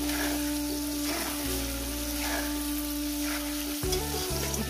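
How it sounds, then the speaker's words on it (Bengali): Ridge gourd and potato fry in a pan, a dense constant sizzle held close over a low steady hum that shifts in pitch a few times, with no one speaking. "এটা আমি 5 মিনিট ধরে ভেজে নিচ্ছি"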